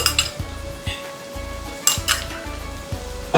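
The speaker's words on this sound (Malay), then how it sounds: "Okey, minyak dah panas. Kita tumiskan bawang besar, bawang putih, halia." Onion, garlic and ginger sautéing in hot oil for a fish curry, with rhythmic spatula scrapes and clinks against the pan over a soft, steady sizzle, close and without talking.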